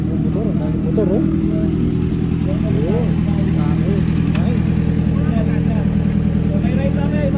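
A motorcycle engine idles loudly nearby in a steady low drone at an outdoor riders' event, with people talking over it throughout.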